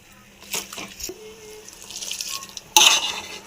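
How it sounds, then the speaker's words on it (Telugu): Hot water poured into semiya (vermicelli) in a pan while making Ramzan-style dhamki semiya: a few short splashing bursts, with the loudest pour near the end, heard close up against a quiet kitchen background. "మనం కాసిన నీళ్ళు పోసుకుంటేనే బాగుంటుంది"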